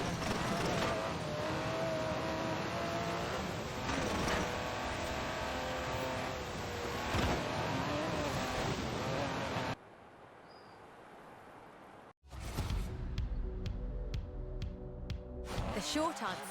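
An Aston Martin DB11 in Forza Horizon 4 runs its engine loudly, rising and falling through revs with gear changes, then drops away briefly before roaring back with sharp, repeated accelerating pulls.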